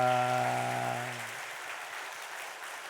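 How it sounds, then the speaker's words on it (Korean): A church congregation claps steadily, continuing on its own as a sustained musical chord fades out in the first second. "우리 힘차게 박수하겠습니다"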